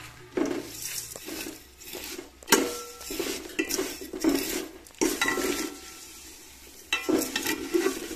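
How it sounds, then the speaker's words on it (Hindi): Vermicelli added to hot ghee in a pan fries with a light sizzle, while repeated metal clanks and scrapes of a spoon against the pan come in irregular bursts. "घी गरम हो गया, तो ये जो मैंने सेवइयाँ रखी थी ये मैं घी में डालूंगी।"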